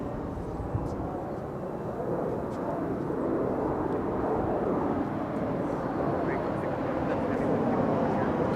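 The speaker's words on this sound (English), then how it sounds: "A Gulfstream 5." Gulfstream 5 jet aircraft climbing out at Los Angeles International Airport, a steady, broad engine roar that holds throughout at moderate distance, with faint background noise and no talk.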